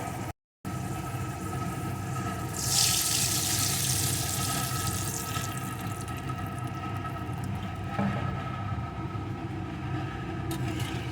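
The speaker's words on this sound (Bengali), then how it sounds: "একটু ভেজে নিয়ে এর ভিতরে দিয়ে দেবো আমি পরিমাণ মতো জল" Water is poured into a pan of frying fish curry with eggplant, causing a surge of hissing sizzle that swells early and then settles into a steady bubbling fry.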